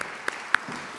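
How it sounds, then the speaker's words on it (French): Brief applause at an academic event, a short burst of crowd clapping with two crisp individual claps standing out. It is fairly faint and lasts about a second. "On applaudit Edna."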